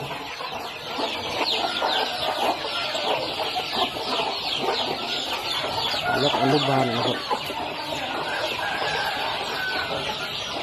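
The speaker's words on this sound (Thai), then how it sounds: "ตัวนี้จะไว้เก็บพ่อพันธุ์ไก่นะครับ" Chickens cluck steadily in a dense, noisy flock at a medium-sized poultry farm nursery pen, with someone talking over them throughout.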